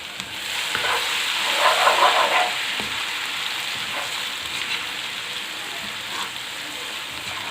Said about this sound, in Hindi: अब इसमें मैं शामिल कर रही हूँ अदरक लहसुन का पेस्ट।